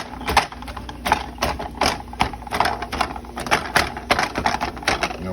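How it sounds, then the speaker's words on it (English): Quick, irregular knife chops clatter on a cutting board as onion is chopped, a steady run of sharp taps with no talking. "We're gonna keep on chopping and bopping."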